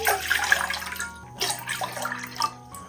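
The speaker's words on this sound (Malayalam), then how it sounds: "ഇനി ഒരു പാത്രത്തിലേക്ക് 3 കപ്പ് വെള്ളം ഒഴിച്ചു കൊടുക്കാം." Water being poured into a cooking pot for a tomato and coconut dish: a steady, close splashing pour that runs throughout with slight surges and no talking.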